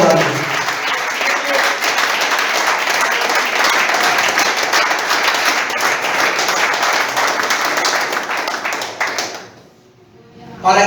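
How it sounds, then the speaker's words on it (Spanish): Church congregation applauding in a steady, dense burst of clapping that fills the room for about nine seconds, then cuts off abruptly into near silence before a brief restart at the end. "Aplaudan."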